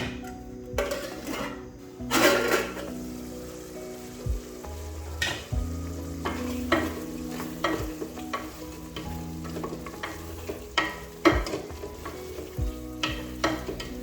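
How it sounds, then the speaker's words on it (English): Beef stew in a pot sizzles and bubbles, with frequent loud scraping and clinking of a spoon stirring it, close up and without speech. "Then I'm going to let this simmer for about 3 to 5 minutes"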